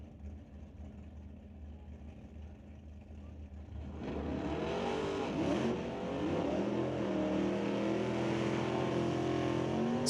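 At a drag strip, a pair of electronics-class cars, including a 1969 Camaro, rumble at idle, then burst into loud acceleration about four seconds in, engines revving hard and sustained under a commentator's voice.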